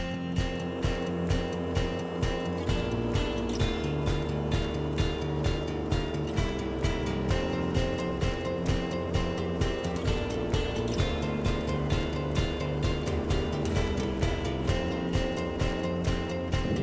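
A Ventrac 4520 tractor fitted with Sunset diamond chains runs fast over gravel, giving a steady, loud engine drone layered with a continuous rhythmic rattle and clatter from start to finish, with no voices.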